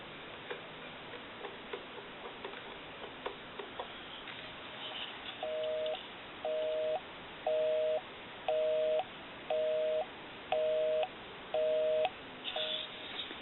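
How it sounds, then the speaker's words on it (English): A converted Kellogg wood wall telephone dials out with soft irregular ticks, then a busy signal pulses in seven evenly spaced on-off beeps, clear and steady, with no talk. "We'll call my number and it'll be busy."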